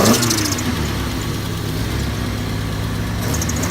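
Nissan 240SX engine idling steadily nearby, a continuous even low rumble with no revving, no one talking over it.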